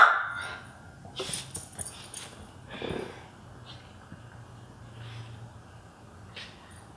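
Dogs on a show set giving small whimpers, snorts and sniffs, faint and intermittent over a low hum, with short yips near the start and no clear talk.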